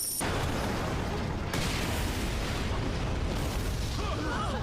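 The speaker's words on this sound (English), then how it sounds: "That's a lot of explosions." Dense, rumbling explosions roar continuously in an anime, a thick wall of booming noise with bursts shifting in intensity, loud and close.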